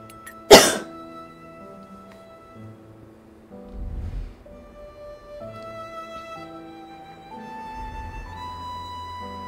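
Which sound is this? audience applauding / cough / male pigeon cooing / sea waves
cough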